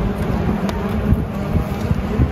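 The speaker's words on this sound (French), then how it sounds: "je sais pas si vous nous entendez parce qu'il y a beaucoup de vent" Low, rumbling wind blows against the microphone in uneven gusts at a motocross event, fairly loud and continuous with no voices.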